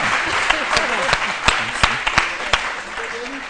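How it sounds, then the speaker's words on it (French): A television studio audience applauds on a French-language midday talk show, a burst of clapping with sharp individual claps standing out, while a host speaks over it. "Bravo, on applaudit encore une fois pour Vitrice."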